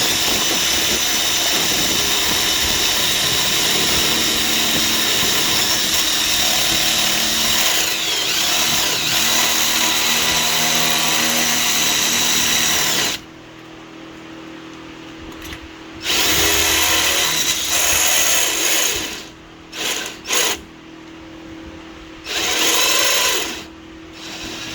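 Power drill bores a hole out to 3/8 inch during EGR delete work on a 2000 Toyota Camry 2.2 I4 5S-FE, a loud steady whine for about thirteen seconds, then stopping and restarting in several short bursts.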